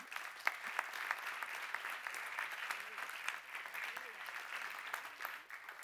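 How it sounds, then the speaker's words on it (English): An audience applauds a German Green Party panelist coming onstage at a food and nutrition forum in Brussels, a dense, even wash of clapping with some crowd murmur beneath it. "Round of applause,"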